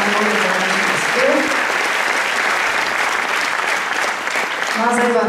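An audience at a village benefit concert claps loudly and steadily, a dense, continuous round of applause that carries through the whole stretch, with a voice faintly audible at moments.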